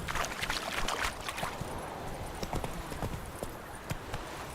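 Roach, the horse in The Witcher 3: Wild Hunt, gallops with rapid rhythmic hoofbeats over a continuous wash of movement noise. The hooves are close and fairly loud.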